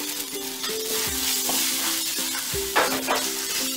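Spoon stirring through a pan of Kerala varutharacha sambar with asafoetida powder just added, scraping and light sizzling in a steady close rhythm, with no voices.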